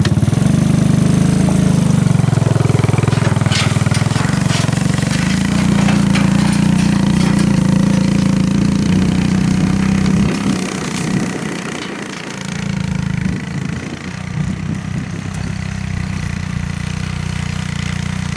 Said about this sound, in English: We'll go until it's either smooth or the three-wheeler stops.